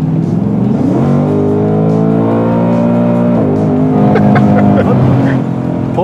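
A modified 2024 Ford Mustang Dark Horse V8 pulls hard through a gear from inside the cabin, its loud engine note climbing steadily with a brief shift dip partway, while people talk over it.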